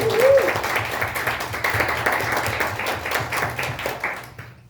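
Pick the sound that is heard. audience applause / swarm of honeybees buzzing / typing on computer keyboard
audience applause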